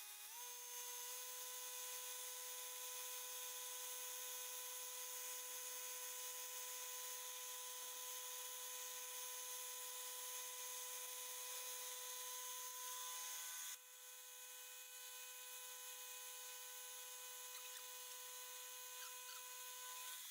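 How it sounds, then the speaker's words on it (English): A milling machine cleaning up the edges of a metal part gives a steady, high-pitched machining whine with several sustained tones, continuous and fairly loud, shifting slightly partway through as the cut changes. "I'm now going to put it in the mill and clean the edges up."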